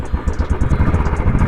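A 2021 Royal Enfield Bullet 350 single-cylinder motorcycle engine runs at a close, loud idle, a steady rapid thumping beat with mechanical clatter, no voices.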